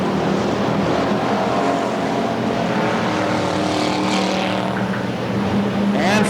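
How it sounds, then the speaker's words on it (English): Race cars roar around an oval short track at Bakersfield, California, in a 1997 Budweiser Racing Series event, a dense loud engine drone with a car sweeping past near the end, under a commentator's voice. "And Frank Molfen goes deep into turn 3 underneath the 77 car of Adam Miller"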